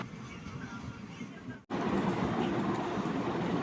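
Ernakulam to Kottayam passenger train running, a steady rumbling clatter from inside the carriage, briefly cutting out before resuming louder, with faint voices in the background.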